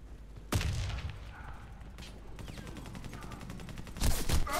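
Submachine gun fire in the video game Warface, rapid bursts of shots in a quiet mix, with a sharp onset, a stretch of fast repeated cracks and a louder burst near the end.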